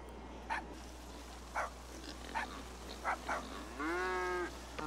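A cow in the video game GTA Online gives a long, loud moo after a series of short, separate dog-like barks. The sounds are spaced out over a low, steady background hum.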